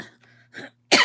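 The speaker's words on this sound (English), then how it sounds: "How come when I come on live I start coughing?" A few soft throat sounds lead into one sharp, loud cough at the end, close to the listener.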